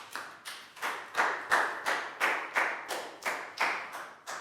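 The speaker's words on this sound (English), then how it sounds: "big round of applause for Pak Bung, guys." Rhythmic clapping in a primary school classroom, about nine evenly spaced claps in a steady beat, close and moderately loud with a slight room echo and no talking.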